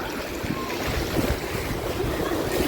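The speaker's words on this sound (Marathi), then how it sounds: "लाट बघा, लाट बघा" Ocean waves wash steadily onto Girgaon Chowpatty beach, a continuous broad surf roar mixed with gusty wind noise on the microphone.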